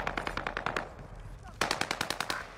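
Rapid automatic gunfire from a video game on the Fortune's Keep map during a tournament match: two loud, close bursts of fast repeated shots separated by a short lull.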